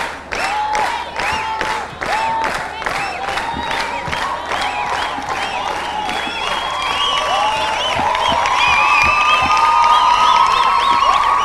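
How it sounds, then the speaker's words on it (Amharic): Loud, sustained applause and cheering from a crowd at a student quiz competition, honoring the first-place winner; clapping stays dense and steady throughout, with whoops and shouts rising toward the end. "ለላምሮት እስከ አንድ ጊዜ ሞቅ ያለ ጭብጨባ።"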